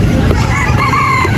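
Close, loud crowing and clucking from chickens at a pet market, including a micro bantam crossed with Serama, over busy background noise.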